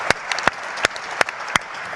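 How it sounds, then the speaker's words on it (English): Sparse applause for panelists: a handful of sharp, separate claps spaced roughly evenly apart, fairly close and clear over a quiet room. "And applause."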